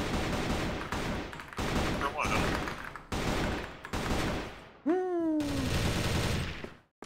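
Rapid bursts of automatic gunfire in the first-person shooter CrossFire, dense repeated shots in several long volleys with brief pauses between them, loud and close, with a short vocal groan partway through.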